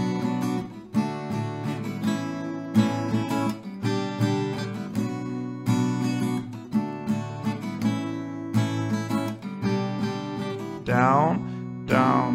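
An acoustic guitar strums at standard tempo in a steady rhythmic pattern of repeated down and up strokes, clear and close, with no talking.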